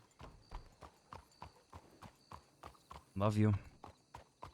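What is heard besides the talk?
horse hooves clip-clopping in a Wild West roleplay video game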